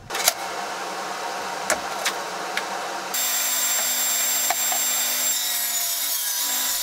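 A saw cuts through boards taken from old veneered doors, giving a steady, loud, rough grinding that continues unbroken, with a few sharp ticks early on and an even droning hum joining partway through.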